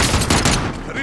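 Rapid, loud gunfire in Call of Duty: Modern Warfare, a brief dense volley of overlapping shots that thins out toward the end.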